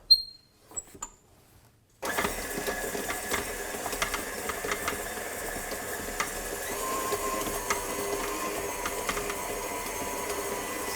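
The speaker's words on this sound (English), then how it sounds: "we need to add our butter and the sugar to a mixing machine. And we start to cream that." Stand mixer creaming butter and sugar for a Sacher cake batter, a steady motor whir with a faint rhythmic rattle that starts abruptly after a brief quiet moment of small clinks and runs on evenly.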